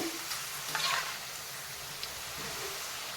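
Potato peels frying toward crispness make a soft, steady sizzle, with a brief burst of stirring and scraping early on. No one speaks.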